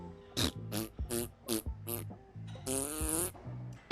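A mouth imitation of a fart: five short, buzzy, sputtering blasts in a steady rhythm, then one longer drawn-out raspberry, loud and close with no talk.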